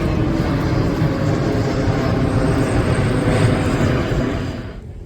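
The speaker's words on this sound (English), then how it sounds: "this aeroplane is coming in" An aeroplane comes in to land near a cruise port in the Canary Islands, a loud, steady, broad engine roar that holds close for several seconds before starting to fade.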